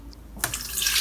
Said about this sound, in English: Strain coarsely with a strainer.